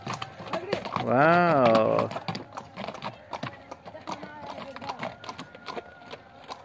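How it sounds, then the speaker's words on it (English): Arab horses in a Jordan village, one whinnying loudly and long near the start, followed by a run of quick hoof clip-clops, with a brief spoken exclamation over the top. "I think that's the family horses"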